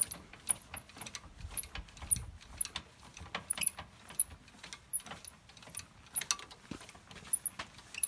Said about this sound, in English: You don't have to crank it really tight at all.